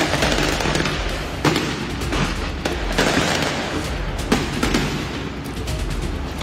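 Firecrackers go off again and again during clashes between two groups in Mairana, in the valleys of Santa Cruz, Bolivia. Sharp bangs and pops burst irregularly over a constant crowd-and-outdoor roar.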